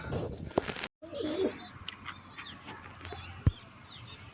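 Pigeons kept by a hobbyist coo softly at a moderate distance, with faint chirps, a brief sharp knock midway and a steady background hum beneath; no one speaks.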